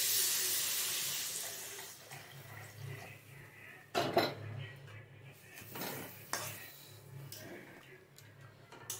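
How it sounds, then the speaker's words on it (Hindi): Water poured into a mustard masala gravy for bhindi in a home kitchen pan, heard as a soft steady pour and sizzle with a few sharp utensil clinks and knocks partway through, no talking. "तो चलिए अब इसमें हम पानी ऐड करेंगे।"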